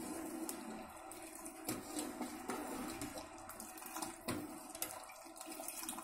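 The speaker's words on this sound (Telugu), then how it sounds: "మరిగిపోయి వాటర్ మరిగింది." Water boils in a pan for wheat rava halwa, with a steady, soft bubbling and gurgling that runs throughout and is heard close up with no voices.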